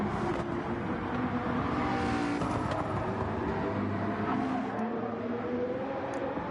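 Race cars at Brands Hatch in a racing video game, engines droning and whirring at high revs down the start-finish straight, steady and close with a slight pitch shift as cars pass.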